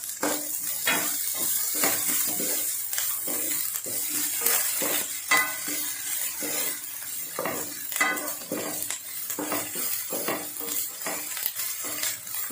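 Finely chopped capsicum sautés in ghee for veg soup, a soft steady sizzle broken by repeated scraping and clinking of a spoon stirring in the pan, close and continuous with no talk.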